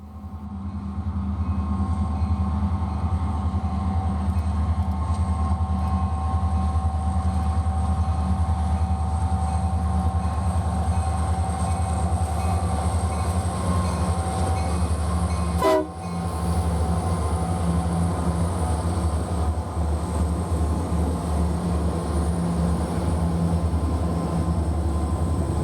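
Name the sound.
freight train with three SD70M locomotives climbing a hill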